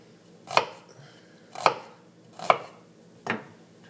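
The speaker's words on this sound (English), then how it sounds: "So get these chopped up." A knife chopping vegetables on a cutting board for cauliflower soup, four distinct, evenly spaced sharp chops, close and clear against a quiet background.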